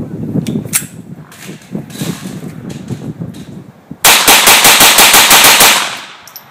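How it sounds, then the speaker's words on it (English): A Colt 1911 Rail Gun pistol in .22 LR fires ten rounds in rapid succession, a loud, evenly spaced string of close sharp cracks after a stretch of quieter handling sounds and a person talking. "Now we'll run 10 rounds through at rapid fire, just to show the reliability of the cycling."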